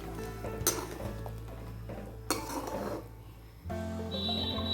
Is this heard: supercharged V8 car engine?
no